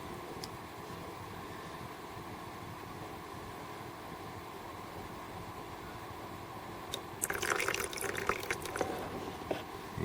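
Liquid is flushed from a rusted-up brake caliper of a 1980 Jaguar XJS into a jar, a soft wet trickle over a steady background hum that grows into a louder splashing burst near the end.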